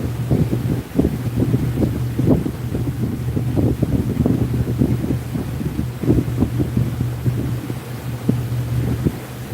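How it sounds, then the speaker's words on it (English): Wind gusting over a boat cruising on open water, a steady low rumble of engine and buffeting air filling the scene with uneven bursts of noise, loud and close with no talking. "I can feel the wind obviously picking up."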